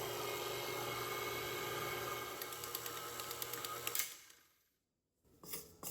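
A stand mixer kneads kolache dough for sausage klobasnek, a steady motor whir running loud and even, then ticking and clattering as the speed shifts, before cutting out and briefly starting again.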